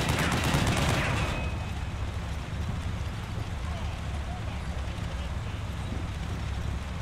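Rapid gunfire rattles continuously in a Cold War tank battle video game, a dense, loud stream of shots with heavier blasts at the start and a voice talking over it.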